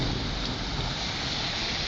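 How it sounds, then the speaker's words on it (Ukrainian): Steady, dense hiss of rain falling outdoors in Lutsk, Ukraine, constant and fairly loud with no voices. "Зараз дощ."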